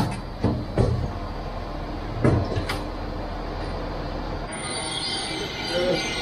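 Train pulling into Kaiserslautern station: a couple of dull mechanical knocks and clunks over a steady rumble, then a brighter hissing, whining rail noise swells toward the end.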